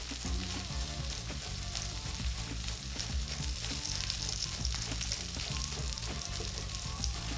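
Steak sears in a hot pan beside asparagus, giving a dense, constant crackling sizzle with spitting pops, loud and close throughout, with no voices over it.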